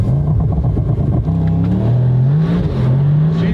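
A 1200hp full-carbon supercar launches hard, its engine note rising steadily in pitch as it accelerates, loud and continuous from start to finish with no talk over it.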